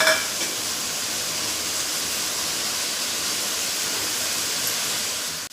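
Onions and tomatoes for a mutton curry sizzle loudly in hot oil in a continuous broad hiss, with the sound of stirring mixed in close by throughout.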